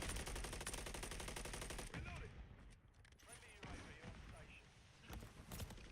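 Rapid, continuous gunfire from the MORS sniper rifle in a video game, dense bursts for the first seconds, then scattered shots and game effects, with a voice talking throughout.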